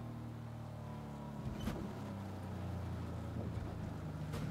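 A vehicle engine drones steadily while driving in Fortnite, a low, rumbling hum with a couple of brief louder bumps, and no one talking over it.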